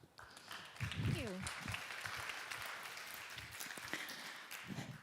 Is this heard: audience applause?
yes